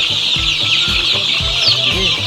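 Chicks and fowl in a brooder under a heat lamp give repeated soft clucking calls in short, irregular bursts over a steady high-pitched peeping chorus, fairly close.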